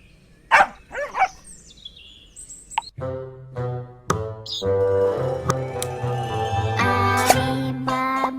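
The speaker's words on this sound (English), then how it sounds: "Woof, woof, barked his little dog on the farm of Ali Baba." A little cartoon dog on a farm barks in a few short bright yips, followed by a bouncy children's song with music and singing carrying on loudly.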